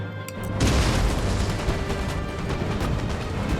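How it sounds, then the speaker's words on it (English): Cannon artillery fire in the Empire Total War video game lands as a deep booming blast followed by a rumbling, crackling roll of battle noise. "we're clobbering them over the head with cannons"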